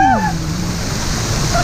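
Waterfalls splashing onto a theme park water ride as the boat passes beneath, a steady rushing wash of water, close and fairly loud, with a brief voice-like cry at the start.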